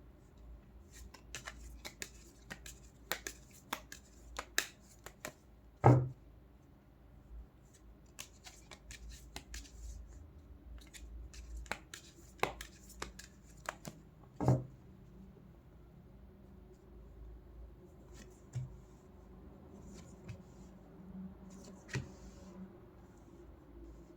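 Tarot cards are shuffled and drawn, faint scattered flicks and soft snaps of card stock in a quiet room, with a couple of louder taps.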